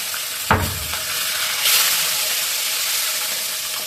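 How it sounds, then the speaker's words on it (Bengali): Fish pieces frying in hot oil in a pan for a home-style Bengali dish, a steady broadband sizzle running throughout with a sharp pop or clatter near the start and a brighter spit of hiss just after. "এবার প্রথম মাছগুলো ভেজে নিল"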